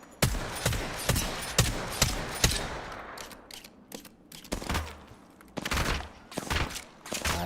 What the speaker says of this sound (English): you're still peppering, shooting 3 bullets at a time